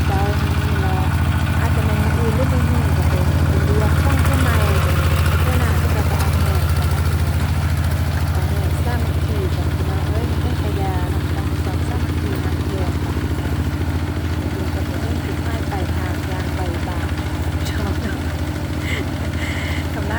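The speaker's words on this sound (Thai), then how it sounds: "ฟังเสียงรถข้างหน้า" A vehicle engine idles with a steady low rumble close by, loud and unbroken throughout, while someone talks over it now and then.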